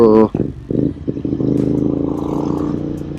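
A Royal Enfield Interceptor motorcycle engine runs with a steady, throbbing low drone that builds after a brief clatter, heard close up while a person talks.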